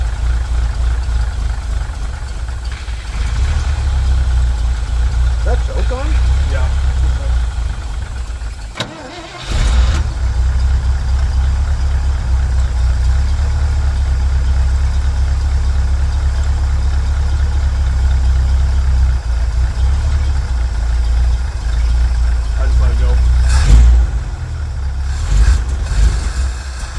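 A 1970 Chevrolet C50 truck engine idles with a loud, steady low rumble, briefly dipping and stumbling around a third of the way in before settling back to a continuous idle.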